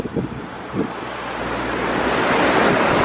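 The River Usk in Wales rushes past in a steady broadband wash of flowing water, blended with wind buffeting the microphone and growing slightly louder, with a couple of soft thumps at the start.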